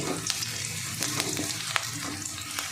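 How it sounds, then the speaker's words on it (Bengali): Garlic fries in oil for a water lily and shrimp dish, a close, even sizzle punctuated by a few spatula scrapes and soft clicks, with no talking. "রসুনটা দেখুন প্রায় ভাজা হয়ে গেছে।"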